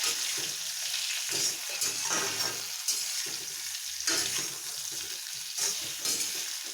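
Ridge gourd tossed with cumin and asafoetida in a hot pan, a spatula scraping and stirring in repeated strokes over a steady crackling sizzle, close and alone.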